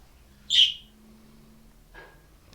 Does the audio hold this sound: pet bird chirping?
yes